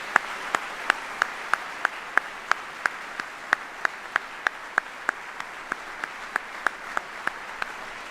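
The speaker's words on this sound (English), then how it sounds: "let's give a round of applause for all the family members here today" Audience applause for family members at a U.S. Army retirement ceremony: an even rhythm of sharp claps, roughly three a second, standing out over a soft steady hiss, with no talk.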